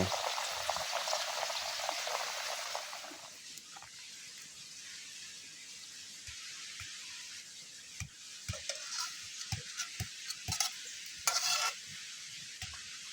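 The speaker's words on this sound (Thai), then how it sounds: "ตอนนี้ก็สุกเรียบร้อยลวกผักของเรา" Vegetables blanching in a pot of boiling water give a loud, steady bubbling hiss for a few seconds, then settle into a quieter simmer broken by scattered clicks and knocks.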